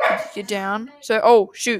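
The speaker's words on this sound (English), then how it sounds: "He's barking." A black Labrador barks and yips in short, close bursts, interleaved with someone talking to it.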